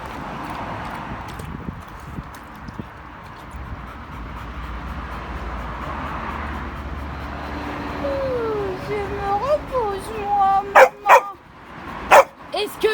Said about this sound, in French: Est-ce que tu peux t'exprimer autrement qu'en aboyant?